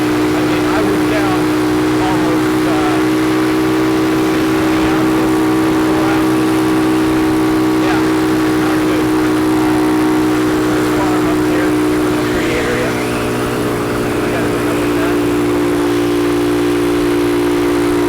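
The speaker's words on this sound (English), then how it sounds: "The bike is a lot quieter." Vintage motorcycle engine running after an oil change, a loud steady low hum with a constant tonal drone and road rumble throughout, with faint talking at moments.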